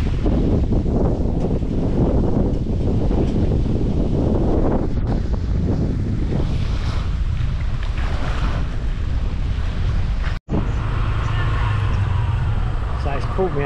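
Strong wind buffets the microphone continuously near a seaside fishing village, a loud low roar with gusts throughout, while a person talks under it.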